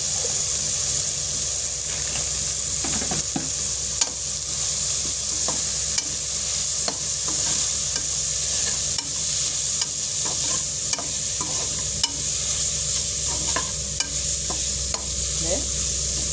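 Tomato gravy masala is sautéed in a pan with bread, a continuous low sizzle with repeated scraping and tapping of a spatula as it is stirred steadily.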